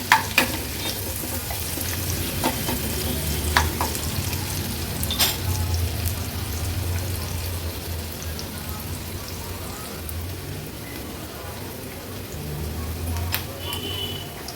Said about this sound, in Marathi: कांदा आणि लसूण लो फ्लेमवर तेलावर छान आपल्याला शिजवून घ्यायचं आहे